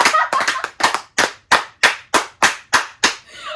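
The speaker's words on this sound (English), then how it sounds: "Yo, round of applause." Sharp, spaced hand claps, about a dozen in a loose steady rhythm, close and loud, the first few quicker and overlapping, with no talk over them, during a casual relationship-advice chat.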